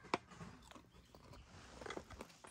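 Crunchy tomato-flavored sugar candy is bitten and chewed up close, with a sharp crack at the start and irregular soft crunches and mouth sounds following, quiet and without speech.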